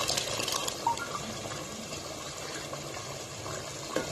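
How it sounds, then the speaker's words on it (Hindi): Chickpea cooking water poured into a pot of chana salan, a faint, steady liquid splashing and gurgling that holds evenly throughout. "ये जो चने का पानी है ये भी इसी में शामिल करूँगी"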